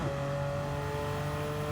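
A Porsche Carrera 2.7 RS engine in Gran Turismo on the Grand Valley racetrack, a steady droning hum at constant pitch, brief and even in level, with no talk.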